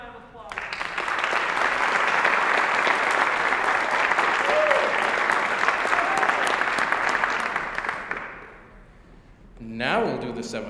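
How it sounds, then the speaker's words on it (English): A school band concert audience gives a long, full round of applause that holds steady for about eight seconds before dying down, followed by a voice speaking. "One more nice round of applause."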